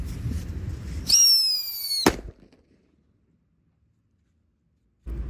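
A Blackbuster firecracker goes off during Ramadan fireworks play: a shrill rising whistle with bright harmonic tones cuts off in one sharp, loud bang, followed by a few seconds of near silence before more noise returns.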